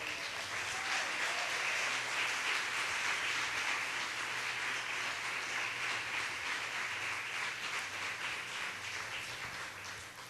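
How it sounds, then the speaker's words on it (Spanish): A church congregation applauds during a Spanish-language morning service. The clapping is dense and sustained, a steady wash of many hands that fades slightly toward the end, with no speech over it. "Y dale un aplauso al Señor en esta mañana."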